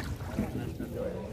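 A boat travels across water on the way to Chhatirchar in Nikli, its low engine rumble and water wash steady and close, with wind buffeting the microphone.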